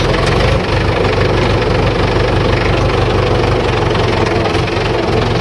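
A tractor engine runs steadily at idle, a loud low rumble with a rhythmic knocking throb that continues unchanged throughout.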